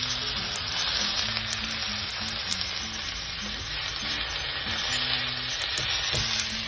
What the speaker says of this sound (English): You let that saute for a bit,